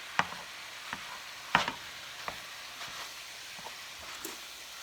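Ground meat browning in a pan for a crockpot baked ziti, with a soft steady sizzle under scattered sharp clicks and scrapes of a utensil, quiet and close with no talking.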